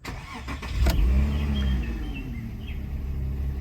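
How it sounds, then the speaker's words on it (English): A car engine cranks and catches with a few short clicks, then settles into a low, rumbling idle heard up close and alone. "Okay, so let's start the car."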